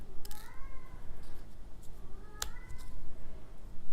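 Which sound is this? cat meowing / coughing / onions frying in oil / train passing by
cat meowing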